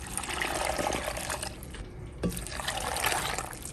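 Chicken broth pours steadily into a blender holding onion, cilantro and garlic, making a continuous splashing, gurgling stream that briefly thins and then runs full again.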